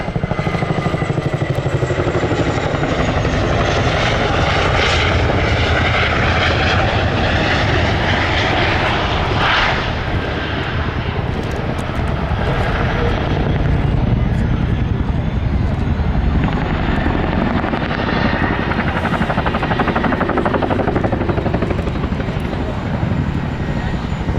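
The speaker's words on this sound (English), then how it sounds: "the Chinook will be expeditiously manoeuvred forward and down to recover the troops on the ground" A Chinook tandem-rotor helicopter manoeuvring forward and down at an airshow, its loud, continuous roaring engine and thudding rotors close throughout with a slowly shifting pitch. An announcer talks over it.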